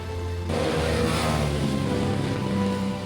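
A second-hand motorcycle engine idling nearby, starting abruptly after a brief quieter hum and then holding a steady, even running drone with no voices.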